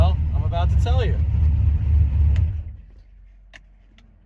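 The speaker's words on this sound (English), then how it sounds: "why are you doing your intro inside of that noisy-ass car?" Steady low engine rumble inside a noisy car while running, heavy and constant beneath someone talking, then dropping away to a quieter hum with a couple of faint clicks near the end.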